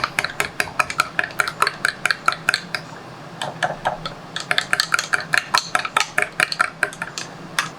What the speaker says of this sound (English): So soy sauce and Worcestershire sauce are a 1:1 ratio, and mix it up.